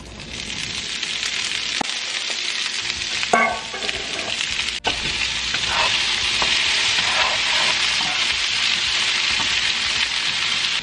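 Vegetables stir-fried in a pan over medium heat for crispy orange beef: a steady, loud, close sizzle and hiss runs throughout, broken by a few brief utensil clatters and stirring scrapes.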